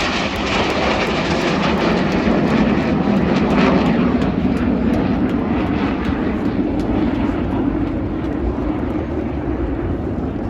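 Display jets performing at the Ayr air show in Scotland, a loud continuous engine roar that holds steady across the whole stretch and fades slightly toward the end.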